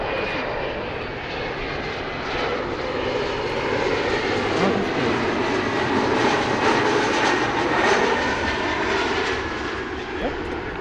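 An airliner's engines roar steadily on a runway beside the Boeing factory in Seattle, a loud sustained drone that holds for several seconds, with voices talking faintly underneath.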